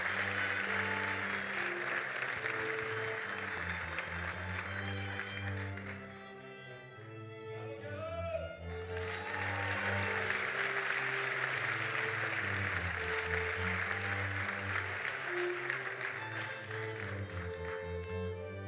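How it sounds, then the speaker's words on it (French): An audience at a university graduation ceremony claps loudly and continuously, the applause dipping briefly midway before swelling back to full strength in a large hall. "on pourrait peut-être se lever pour l'applaudir pour son grand succès"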